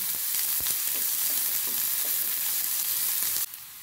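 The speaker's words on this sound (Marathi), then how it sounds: "तेल आमचें तापलें, आतां भितर 2 कांदे बारीक चिरलेले घालून घेता।" Two finely chopped onions dropped into hot oil for a pumpkin-flower bhaji, giving a loud, steady, close sizzle and crackle that holds evenly before abruptly dropping off near the end.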